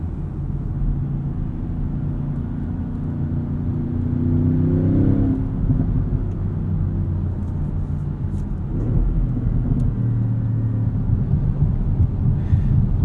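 A 2016 Audi S7 engine accelerating and shifting up, a steady low drone that climbs in pitch and then drops at each shift, heard from inside the car with some wind noise on a windy day.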